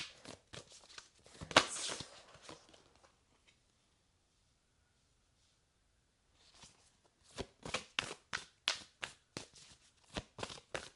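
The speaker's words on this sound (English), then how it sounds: "we're going to pull a few cards from the Rose Oracle deck" Cards from a Rose Oracle deck being shuffled: a soft riffle of papery flicks near the start, a long quiet pause, then a close run of sharp rhythmic card slaps and flutters toward the end.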